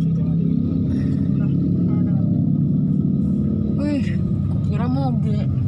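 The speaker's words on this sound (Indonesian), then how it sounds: "Kira mobil ternyata Aerox" A Yamaha Aerox scooter moves through Jakarta city traffic on the night of Lebaran, giving a steady, fairly close engine rumble under continuous in-car conversation.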